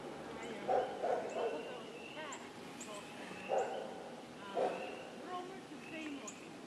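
Dogs bark and yip in short bursts somewhere ahead on a dusty rural track at sunset, the barks fairly distant and spaced out, with faint higher yelps in between.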